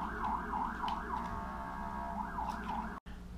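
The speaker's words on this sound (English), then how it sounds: "More ambulance and fireworks." An ambulance siren wails outside in a rising and falling cycle, heard indoors at moderate distance and steady throughout, ending with a sudden brief cut.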